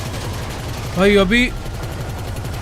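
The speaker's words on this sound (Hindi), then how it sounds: "बहुत गोलियां चलानी पड़ी बट फाइनली वो जा चुका" Rapid, continuous gunfire in GTA 5 as a helicopter is shot down, a fast, even stream of shots, loud and close, with someone speaking briefly over it.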